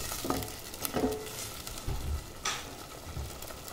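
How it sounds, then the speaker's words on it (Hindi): Ground spice paste for besan gatte sabji fries in a pan, a soft steady sizzle with scattered scraping stir strokes and light spatters close by, no voices. "और इस मसाले को हमें बहुत अच्छे से भूनना है।"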